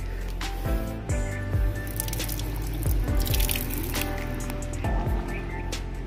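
Water drips in irregular, fairly close plops over a steady background hum, several distinct drops landing a second or so apart, with no talking.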